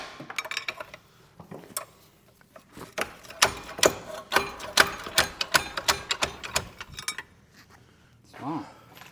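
A ratchet socket wrench turns in a garage during a car build, sending out quick runs of close metallic clicks in short bursts, with a voice briefly heard near the end.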